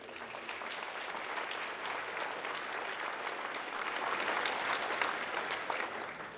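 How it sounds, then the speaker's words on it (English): Crowd at an athletics hall of honor banquet giving sustained applause, a dense, fairly distant roar of clapping that swells slightly toward the end. "Let's give a big hand of applause."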